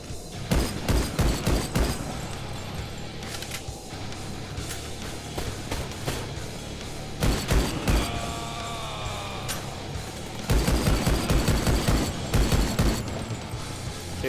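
Close-range weapon fire in the 2013 Rise of the Triad game: loud bursts of rapid shots in several clusters, with mechanical clatter and quieter game sounds between volleys.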